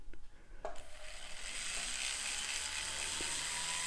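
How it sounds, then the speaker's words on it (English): A pedal-driven polishing wheel reserved for steel spins up after a few clicks, settling into a steady, close whirring hum with faint mechanical ratcheting through the run. "use a polishing wheel that you only use for steel, and run it with your pedal"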